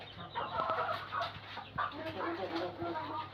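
Laiza breed laying hens cluck and chatter softly on a poultry farm, a busy overlapping murmur of short calls with a steady background hum and a voice talking faintly.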